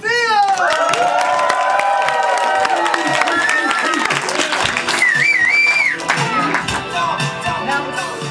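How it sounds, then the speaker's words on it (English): An improv comedy workshop audience at a ComedySportz show erupts in loud, sustained applause mixed with cheering, whistles and shouting voices that fill the room without letup. "let's go back to the level of 10 applause"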